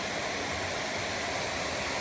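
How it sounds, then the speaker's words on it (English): Upper Courthouse Falls, a slide-style waterfall in Balsam Grove, North Carolina, pours with a steady, broad rushing roar heard up close, unbroken and with no talking. "This is Upper Courthouse Falls. Really nice slide style waterfall."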